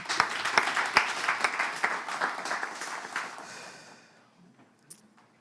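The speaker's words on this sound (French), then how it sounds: "On applaudit, s'il vous plaît." A burst of applause from an audience, lively at first with some sharp individual claps, then tapering off and fading to near silence.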